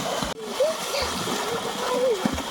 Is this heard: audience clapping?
no